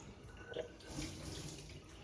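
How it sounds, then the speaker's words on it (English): Hot tap running into a sink, a steady, faint rush of water lasting the whole short stretch with no talk. "So let's turn the water on."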